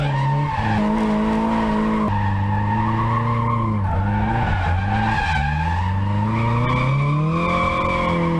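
A Nissan 240SX drifts with its tyres skidding and squealing, a loud, continuous wail that swoops and bends in pitch across several seconds, close by with no talk.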